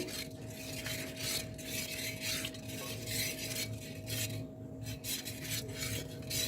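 Milk sweetened with a little sugar is stirred together with rose syrup, giving a steady, continuous scraping and rubbing sound of a utensil moving around the container, close and moderately loud, with no voices.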